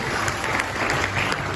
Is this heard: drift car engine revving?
no